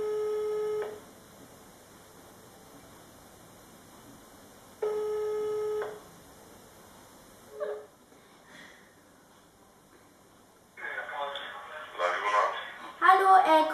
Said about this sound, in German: Also eine Shisha-Bar und da muss ich jetzt anrufen.